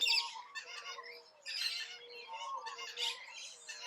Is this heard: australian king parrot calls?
yes